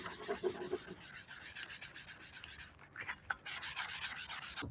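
Fine sandpaper rubs back and forth over a part of a Citroen C2 in a steady rasping rhythm, close and moderately quiet, with a brief pause near the middle before the strokes resume.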